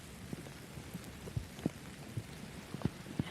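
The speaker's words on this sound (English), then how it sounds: "See the top of your picture, the rain coming down across Lake Nona." Rain falls over the Lake Nona golf course during a tournament's final round, a steady soft hiss with a few dull thuds scattered through it and no talking.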